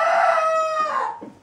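A domestic hen gives one loud, close, drawn-out vocal call lasting just over a second, trailing off into softer clucking at the end, with no talking.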